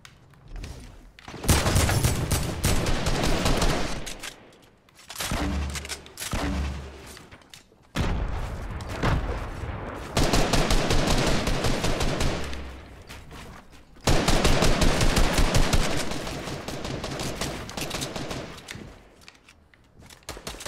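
Sustained bursts of automatic gunfire in Fortnite on Xbox One, loud and dense, coming in several long volleys separated by brief lulls, with no talking.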